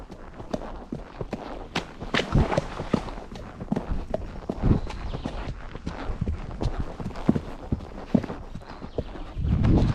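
A horse's hooves clip-clop at a walk during a ride, with steady close hoofbeats, some louder thuds, and a little faint movement noise.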